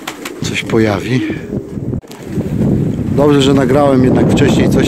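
Strong wind roars and buffets the microphone outdoors at a pigeon loft as rain begins, while someone talks over it close up.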